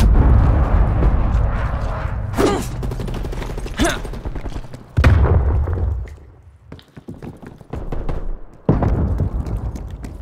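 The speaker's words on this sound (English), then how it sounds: "Enemy cruise missile launch detected." Enemy cruise missile strike in Call of Duty: Black Ops Cold War, heard as dense, loud bursts of gunfire and heavy explosions with sharp cracks, followed by a quieter lull and then renewed blasts.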